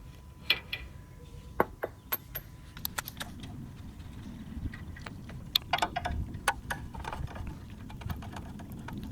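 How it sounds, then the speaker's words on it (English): Hand tools working loose the four bolts that hold the lower ball joint on a 2007 Toyota's front suspension, heard as scattered sharp metallic clicks and ticks over a steady low rumble, close and fairly quiet. "I'm taking those 4 bolts out that are holding the lower ball joint on"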